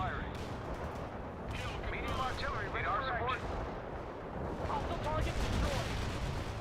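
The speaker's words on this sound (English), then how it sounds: "Mortar. Target this location." Mortar and artillery fire in the real-time strategy game World in Conflict: Soviet Assault, with muffled booms and scattered gunfire rumbling across a busy battlefield under game voices and radio chatter.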